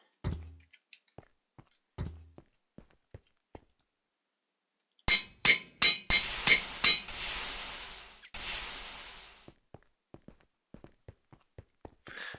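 A Minecraft forge hammer machine: a string of heavy metallic thuds and clanks, several rapid strikes followed by a ringing mechanical burst, with scattered lighter clicks before and after.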